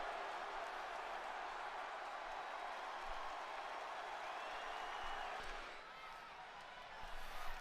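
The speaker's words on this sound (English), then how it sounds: "you can hear the crowd in Germany going absolutely crazy for their women's champion, Rachel Rodriguez." A German crowd roars at a women's championship wrestling event in Berlin, a dense, loud, continuous wash of cheering and applause that swells briefly near the end.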